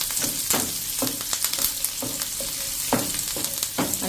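Chopped green chillies and fresh curry leaves sizzle in hot oil over a medium flame, a dense, continuous crackle punctuated by regular stirring clinks from a spoon against the pan, close and loud with no talking.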